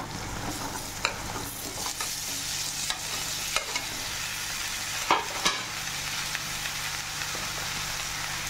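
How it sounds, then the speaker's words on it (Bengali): Onions frying in oil, a dense steady sizzle and hiss close up, with occasional sharp clicks and scrapes from stirring. "পেঁয়াজগুলো মোটামুটি এইভাবে ভেজে নিতে হবে"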